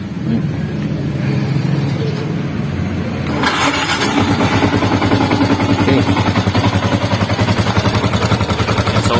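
Motorcycle engine starting up, then idling steadily with a rapid, even exhaust pulse as it warms up, loud and close throughout, with no talking over it.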